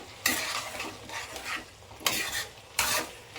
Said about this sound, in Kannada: ಈಗ ಇದನ್ನು ಕೂಡ ಹಸಿ ವಾಸನೆ ಹೋಗೋವರೆಗೂ ಸ್ವಲ್ಪ ನೀಟಾಗಿ ಫ್ರೈ ಮಾಡ್ಕೊಳ್ಳಿ